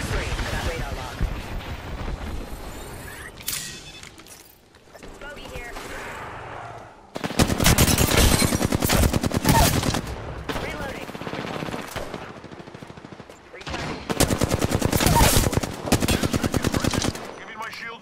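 Sustained rapid gunfire from a video game battle crackles loudly in long dense bursts separated by brief pauses, with heavy rattling volleys dominating throughout.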